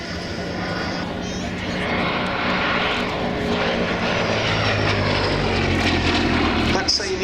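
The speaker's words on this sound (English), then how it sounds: "The B-17 on its downwind rate there over the tail of the Chilton's site, an evocative sight" A Boeing B-17 bomber drones overhead on its downwind leg at an airshow, a loud, sustained roar of piston engines and propellers that swells and shifts gradually, with voices faintly audible beneath it.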